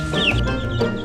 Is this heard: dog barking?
no